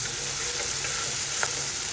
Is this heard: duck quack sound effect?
no